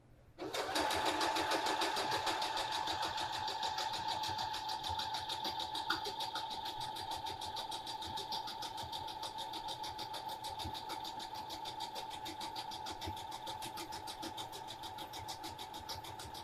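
A sewing machine runs steadily, stitching a line through layered cotton quilted fabric, with a fast, even mechanical whir close by that starts abruptly and continues unbroken.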